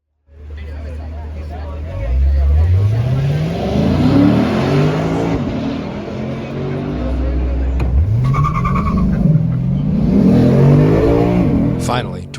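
Lexus LC pulling out of a turn on a race track, its engine note climbing steeply through two long acceleration runs with a gear change between, loud and close, with a voice talking over it.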